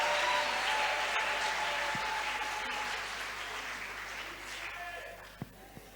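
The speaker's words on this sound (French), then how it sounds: "clap for the Lord?" A church congregation applauds at a Sunday service, a dense, loud wash of clapping that gradually fades toward the end, with a few isolated claps at the close.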